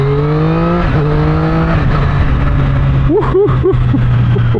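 A 2024 Triumph Street Triple 765RS motorcycle engine while riding, droning steadily loud and close with rising and falling pitch through gear changes and revs, under wind noise.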